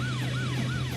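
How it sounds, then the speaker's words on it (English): A police car siren wails in a rapid repeating yelp, loud and close, cycling about three times over a steady engine hum. "Detective Mack hit his blue lights and siren"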